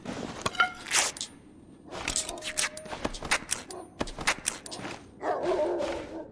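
Dogs barking in a French-language survival video game, several sharp yaps and barks in irregular bursts over about six seconds, mixed with clattering game noises and background sound.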